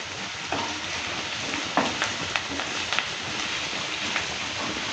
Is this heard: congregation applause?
no